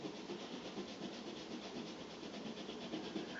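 Colored pencil burnishing over layered color on paper gives a soft, continuous close rubbing scratch with a faint rhythmic back-and-forth texture, quiet and alone.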